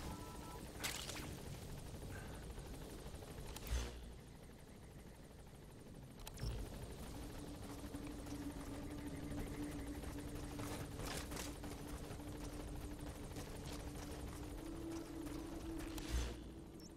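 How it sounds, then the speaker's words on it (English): A helicopter flies low in the Metal Gear Solid V video game, its rotor drone steady and continuous, with a few sharp impacts or clanks punctuating it. "Why is the chopper so low?"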